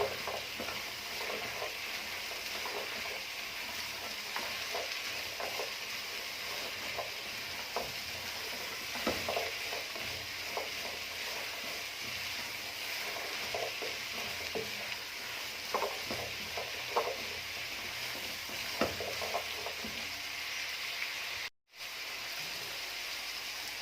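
Spices are stirred into a pot of sprouted fava bean soup. Soft, repeated scraping clicks from the stirring sit over a quiet, steady sizzling hiss, with no voices.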